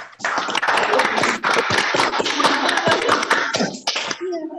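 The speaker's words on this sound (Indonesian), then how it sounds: "Tepuk tangan buat kita semuanya." A crowd claps hands in applause at a Ramadan welcome gathering, dense and loud continuous clapping that starts abruptly and runs for about four seconds before fading.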